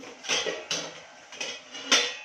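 Metal lid set onto a pot of drumstick, pumpkin and potato curry: several sharp close clanks and clatters of metal on metal, spaced apart, with no talk.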